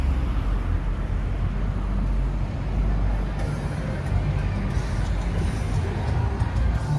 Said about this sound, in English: Why is this just the busiest street ever?